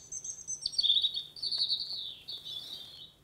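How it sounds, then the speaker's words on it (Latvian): European robin song played back from a bird sound book: a thin, high series of warbling, descending trills and twittering phrases, fairly faint and alone over quiet background hiss. "Tā ir sarkanrīklīte."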